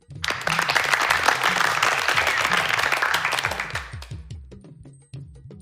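Dense, loud applause fills a children's game show studio for a contestant over a low repeating musical pulse, thinning into scattered claps toward the end.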